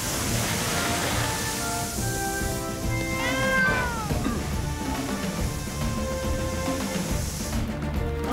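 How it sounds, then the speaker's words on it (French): Cartoon cat meowing inside a house during a firefighting episode, a drawn-out wavering meow rising from a loud, continuous rushing background of fire or water noise. "Sam, le chat est resté à l'intérieur de la maison."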